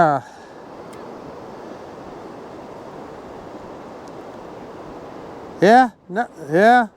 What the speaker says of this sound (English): that gimbal just is not liking this wind, that's for sure